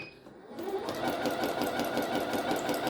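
A sewing machine stitches through paper during beginner practice, its presser foot lowered; after a short quiet pause it settles into a steady, fast, even whirring hum close by.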